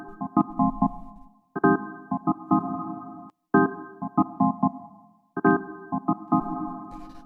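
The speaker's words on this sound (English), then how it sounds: "the first sound that we have here is the organ stab" Organ stab synth from a minimal deep house track, playing a skippy, swung pattern of short chord stabs in four repeating phrases separated by brief gaps, with a low bass pulse underneath.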